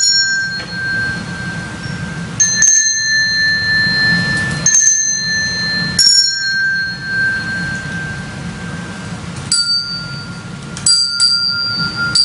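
Bright metallic bell tones rung by children ring out in scattered clusters, some sustained and overlapping, with pauses between groups of strikes.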